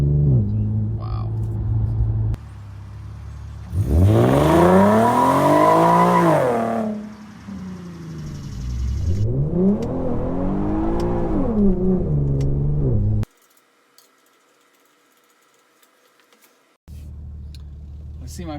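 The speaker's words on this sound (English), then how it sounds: "just trying to launch there in first with traction control off, I got a little bit of wheel hop" Infiniti Q50 RWD launching in first gear with traction control off on cold Firestone Firehawk Indy 500 tyres: loud revving engine surges twice with rising pitch sweeps and wheel hop judder, then a near-silent gap before idle returns.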